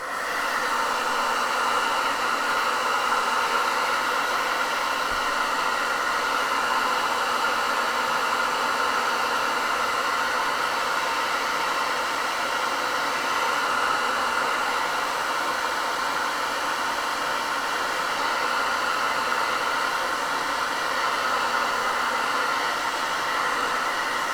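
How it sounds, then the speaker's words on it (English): Steady whooshing roar of a hair dryer drying paint on paper, running continuously at close range, unchanging in pitch and loudness throughout. "I am going to hit it with a hairdryer"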